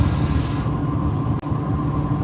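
A steady, deep car engine rumble in reverse gear with a gravelly low-end growl, close and continuous, briefly dipping once near the middle.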